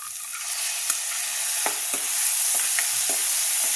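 Tomatoes sautéing with onion in a pan, a close, continuous frying sizzle broken by light, scattered ticks and taps of stirring, with no voices.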